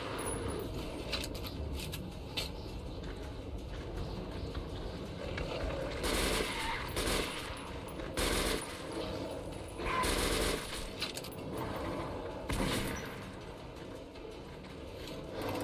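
Gunfire from a weapon in Metro 2033 Redux, a video game, during a fight against a horde: repeated bursts of rapid shots and metallic mechanical clatter over a steady rumbling background, with louder volleys spaced through the stretch.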